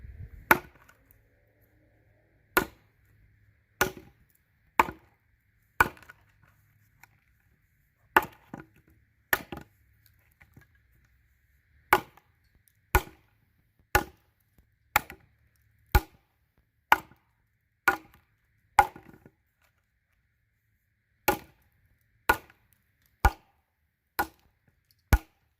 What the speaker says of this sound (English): just kind of chopping for fun